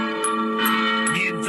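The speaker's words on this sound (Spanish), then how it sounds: "las campanas del templo de San Francisco anunciaban la llegada de un nuevo día" Church bells of the Temple of San Francisco ring with sustained, overlapping metallic tones, several strikes blending into a resonant hum.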